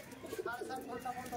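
Red-eyed Kamagar pigeons coo in short, soft bursts close at hand, with faint voices mixed into the background.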